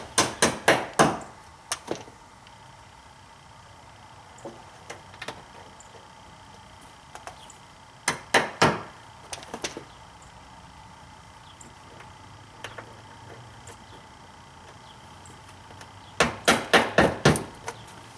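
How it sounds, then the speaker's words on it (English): Plastic rivets being tapped into place on a BMW 3 Series during a washer pump replacement, quick clusters of sharp close taps separated by quiet pauses. "push that into place, and give them a tap"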